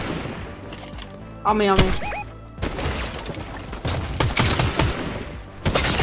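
Gunfire rattles in a battle royale video game, with bursts of close rapid shots and sharp cracks, a rising whistling effect, and a player calling out briefly over the fighting.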